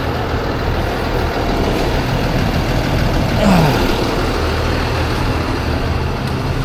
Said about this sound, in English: I bet we're getting pretty close to operating temperature on that engine